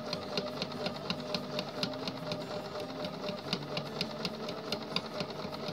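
A Bernina sewing machine runs steadily with a bias binder foot, feeding bias binding onto fabric, its rapid needle rhythm close and continuous with no talking.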